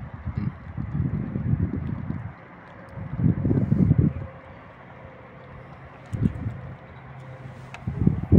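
Gusts of wind at the Glyfada marina in Athens, Greece, buffet the microphone at night in rumbling bursts, rising and falling several times against a quieter breezy background; no one speaks.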